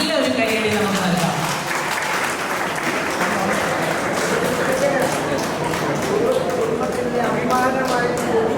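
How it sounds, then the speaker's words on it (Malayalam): Audience applause for a Panachikkad panchayat best student farmer award at a community gathering, a steady, dense wash of clapping that holds for the whole stretch, with a voice speaking over it. "നല്ലൊരു കൈയടി നമുക്ക് നൽകാം."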